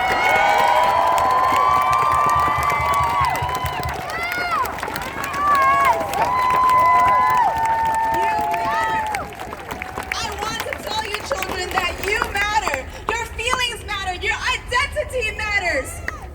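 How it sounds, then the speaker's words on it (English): Crowd at a #StopAsianHate rally in New York City cheers and shouts for Asian American children, a loud sustained roar of whoops and yells with scattered claps and babble that fades slightly toward the end. "Please cheer for the Asian American children who are here."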